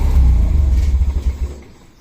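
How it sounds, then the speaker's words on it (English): A car engine fitted with individual throttle bodies idles with a deep low rumble, then shuts off, the pulsing thrum thinning and dying away within two seconds. "I'll just turn this motor off."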